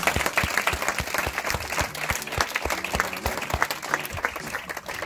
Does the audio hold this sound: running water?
no